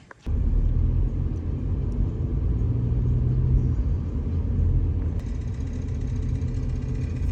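Riding inside a car on a road trip, with a steady low engine and road rumble that starts abruptly and holds a constant droning level throughout.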